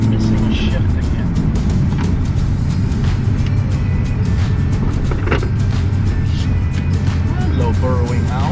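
A Nissan Skyline R34 GT-R engine drones loudly while driving, with its pitch rising and falling across gear shifts under steady road and wind noise, and someone talking over it.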